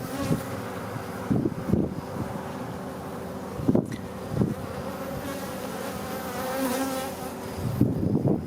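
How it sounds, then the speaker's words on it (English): Honey bees at a Texas beehive buzz steadily and close, a continuous insect hum with light wind noise and a few bumps from handling the hive. "Some beautiful Texas bees right there."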